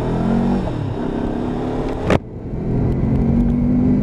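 A Lexmoto LXR 380 motorcycle with a six-speed gearbox accelerates hard on a road, its engine note climbing and then cutting abruptly with a gear change before building again, loud and close.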